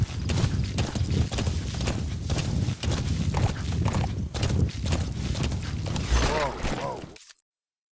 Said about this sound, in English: Use your horse for traveling long distances